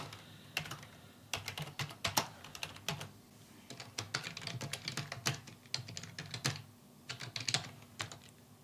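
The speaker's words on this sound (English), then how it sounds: "this is a test against the MK850. Let's see the sound." Typing on a Logitech MK850 keyboard, close and fairly quiet, with irregular bursts of crisp key clicks and brief pauses between runs of keystrokes.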